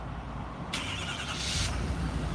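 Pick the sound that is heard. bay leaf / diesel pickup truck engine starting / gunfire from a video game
diesel pickup truck engine starting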